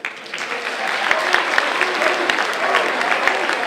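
Audience clapping hands together, a dense steady round of applause filling the room from start to finish.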